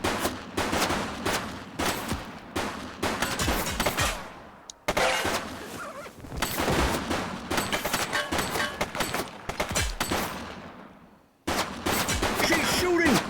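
Gunfire from a suspect in the police video game The Precinct, rapid, dense bursts of shots continuing almost nonstop over several seconds, loud and close, with brief gaps between volleys.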